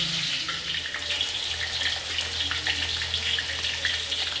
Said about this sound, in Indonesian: Saya goreng tahu nih.